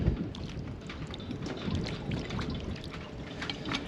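Water splashes and trickles as a chemical rust remover is washed off a rusty boat part, a soft, steady rush of running water with small drips and spatters.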